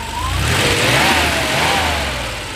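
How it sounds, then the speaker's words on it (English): Close, loud revving from a 1989 Porsche Carrera engine, swelling and easing in two broad waves over a steady mechanical whine, with no talk. "Yeah, that great Porsche sound."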